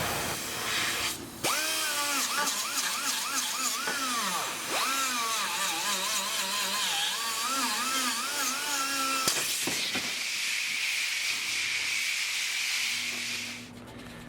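A power tool works at the rivets on a 1980 Triumph TR7, its motor whining steadily and rising and falling in pitch for several seconds, then cutting out into a broad hiss. No one speaks.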